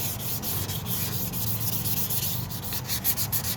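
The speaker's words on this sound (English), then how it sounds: "Spray it down. Sand it." Steady close-up rubbing and sanding on a plastic car headlight lens, a continuous gritty scrape with a faint rhythmic back-and-forth, no talking.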